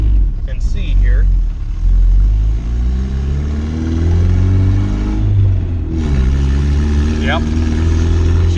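A Honda CRX engine running lean climbs under increasing throttle, its low harmonics rising in pitch, easing off briefly and then climbing again. The engine is loud and close, with short bursts of speech over it near the start and end.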